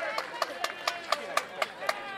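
Steady rhythmic clapping from an audience at a rooster-cooking festival, about ten evenly spaced claps in a row, fairly close and under faint background talk.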